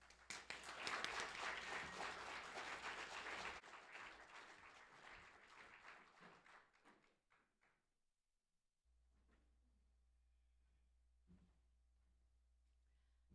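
An audience at a plenary session applauds to welcome a speaker: a burst of clapping from many hands, faint and distant, that thins and fades away over several seconds.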